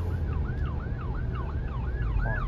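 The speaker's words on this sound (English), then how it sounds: "Oh, ambulance." An ambulance siren wails in a fast, regular up-and-down sweep, loud and close over a steady road rumble, heard from inside a 2022 Mazda CX-5 on a road trip, with no talking.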